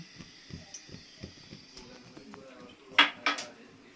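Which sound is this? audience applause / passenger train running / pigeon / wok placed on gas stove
wok placed on gas stove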